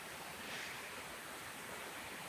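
Steady broadband rush of a waterfall with a light breeze, a constant hiss heard alone with no voices, moderately quiet.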